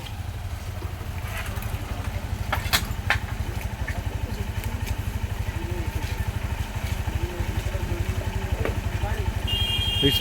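A motorcycle engine idles with a steady low throbbing pulse as the bike is eased out after a head-on crash with a mini truck, while people talk and shout directions nearby.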